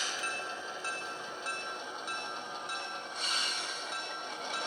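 A model locomotive runs along its track with a steady, fairly quiet mechanical whir and hum, carrying a thin high whine and a slight swell near the end.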